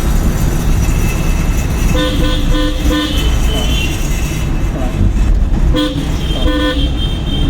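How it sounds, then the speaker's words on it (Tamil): A car horn sounds in several short toots from inside the vehicle, pressed by a driving student during a lesson, with a steady road and engine rumble underneath throughout. "இதுதான் ஹார்னு அடிக்கணும், சரிங்களா?"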